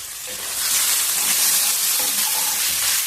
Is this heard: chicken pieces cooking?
yes